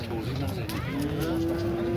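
Bull calf at a livestock market lowing in one drawn-out moo that rises and holds, close and fairly loud over a busy background murmur of the market.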